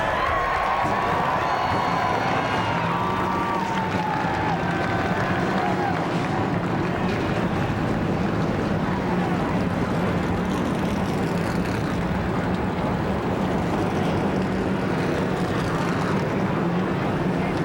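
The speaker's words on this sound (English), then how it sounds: "Gentlemen, start your engines." Stock car engines fire up and roar together at Daytona before the 2004 Gatorade Twin 125 qualifying race, a dense, steady rumble blended with crowd noise, loud and continuous throughout.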